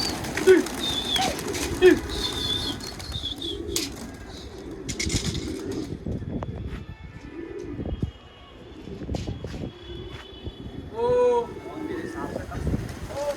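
Pigeons coo softly in the background amid rustling and wing flaps, while someone talks over them for much of the time.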